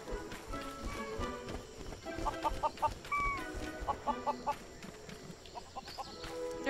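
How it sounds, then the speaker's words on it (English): Chickens clucking in the Lego Worlds video game, repeated short calls over busy game sounds with clip-clop hoof-like steps, moderately close. "I can actually hear some chicken."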